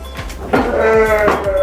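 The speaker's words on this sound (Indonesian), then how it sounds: "Nah, ini juga domba-domba anakan yang di kandang kolonikan" Lambs about a month and a half old bleat in a colony pen on a sheep farm, several loud, wavering cries overlapping close by over a constant barn background.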